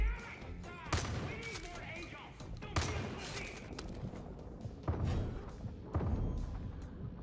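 Repeated gunfire in the first-person shooter Far Cry 5: loud, sharp shots come every second or so amid game ambience, with someone talking throughout.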